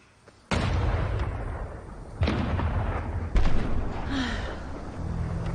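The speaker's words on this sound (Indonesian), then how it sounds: "Tapi tiba-tiba, terdengar suara ledakan keras." A loud explosion booms out suddenly after near silence, followed by further heavy blasts and rumbling aftershocks in quick succession, close and forceful.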